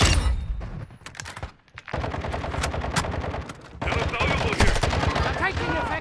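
Rapid automatic gunfire in Call of Duty: Modern Warfare II, loud and close, in sustained bursts with a brief lull before the shooting resumes, with voices heard in the mix.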